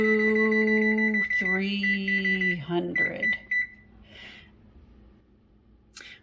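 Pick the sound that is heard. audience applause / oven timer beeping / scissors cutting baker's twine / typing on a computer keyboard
oven timer beeping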